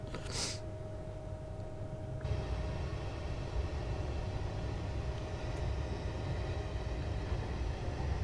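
Train simulator game locomotive pulling away on a semi-fast service, a steady low rumble and broadband running noise that swells slightly after a couple of seconds, with a faint sustained tone throughout and no talking.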